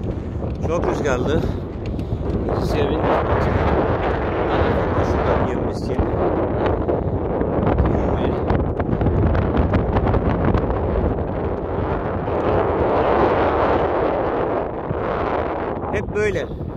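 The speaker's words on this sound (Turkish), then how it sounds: "Çok rüzgarlı." Strong wind in the Mauritanian Sahara buffets the microphone in a constant roar, with voices faintly underneath.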